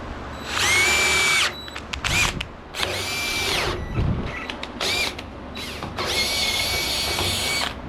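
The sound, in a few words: power drill drilling a hole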